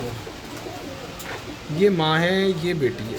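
Pigeons cooing with rising and falling throaty calls, the louder ones in the second half, while someone talks nearby in a quiet setting among fancy breeding pigeons.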